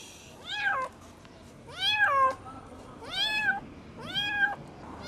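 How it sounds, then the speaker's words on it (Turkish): A cat trapped inside a car meows four times at a steady pace, each cry long, rising and falling, close and fairly loud over a quiet background. "Yaklaşık bir saattir arabanın içerisinden kedinin çıkması için çalıştık."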